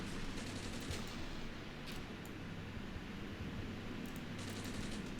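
Dense, distant gunfire in the war game Armored Brigade, during a Finnish ambush on Russian forces, crackles as a continuous rattling fusillade under a wash of battle noise, fairly faint and steady throughout.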